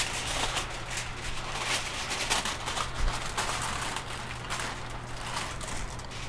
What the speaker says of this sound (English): Sorry about the foil noise.